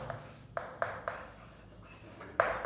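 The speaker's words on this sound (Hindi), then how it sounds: "तो आइए लिखते हैं वर्ग" Writing on a board in a chemistry lesson, a handful of short scratchy strokes in uneven rhythm, close and fairly quiet with no voice over them.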